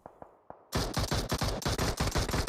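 Rapid automatic gunfire in the mobile battle royale game PUBG Mobile during an esports scrim match: a few isolated shots, then a loud, sustained burst of fast repeated shots that fills the rest of the moment.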